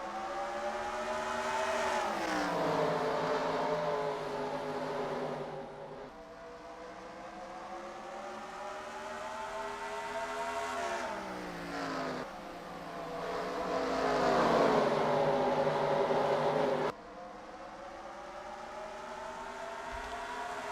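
Stock race cars roar away at the start of a race at North Wilkesboro, engines rising and falling in long overlapping waves as cars pass in repeated surges, loud and continuous.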